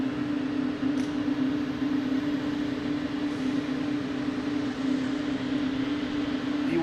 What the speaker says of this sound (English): Got Delta coming in from Reagan.